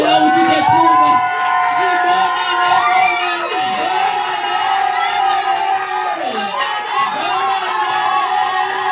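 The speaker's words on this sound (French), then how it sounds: "acclame encore très fort de là où tu te trouves" A large congregation cheers and shouts in acclaim at a New Year's Eve church service, a loud, sustained wall of voices with rising whoops that never lets up.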